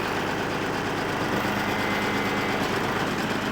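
A tractor engine runs loud and steady at idle while the VEVOR hydraulic top link cylinder retracts, a continuous low rumble with a faint vibration throughout and no talking.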